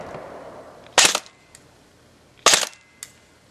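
Code-8 PTW airsoft gun firing through a chronograph: two sharp, loud single shots about a second and a half apart, each followed by a brief rattle, then a fainter click.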